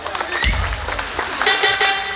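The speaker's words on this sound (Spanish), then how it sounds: "escuche fuerte el aplauso para los novios." Wedding guests applaud the bride and groom at a celebration, a short burst of uneven clapping with some crowd noise.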